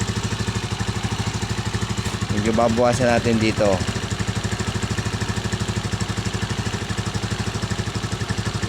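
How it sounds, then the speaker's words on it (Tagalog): A motorcycle engine idles with a steady, rapid putter while its timing is adjusted, the pulsing beat continuing throughout as someone briefly talks over it. "tunog ng motor tunog ng makina"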